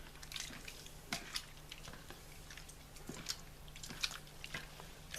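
A hand kneading and squeezing a wet conditioner mixture, giving soft continuous squelches and drips with small irregular wet pops throughout, close and fairly quiet.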